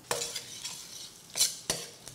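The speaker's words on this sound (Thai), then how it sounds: "เฉพาะขิงพริกหอมแล้วก็กระเทียมนะครับ ใส่ลงไปก่อนเลยครับ" Ginger, chili, shallot and garlic stir-fry in a wok over moderate heat, with a few distinct scraping stirs and a soft sizzle, close and clear with no talking.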